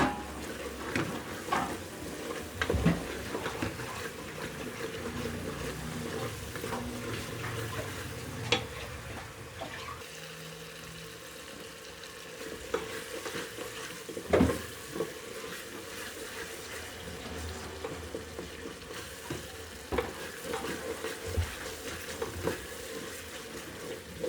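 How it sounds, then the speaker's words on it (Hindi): Tomato masala stir-fried in a pan for aloo gobhi, a low steady sizzle under repeated scraping and clinking of a spatula over about twenty seconds, with no speech. "अब इसको भूनेंगे अच्छी तरह, ताकि टमाटर गल जाए और हमारा मसाला अच्छी तरह पक जाए।"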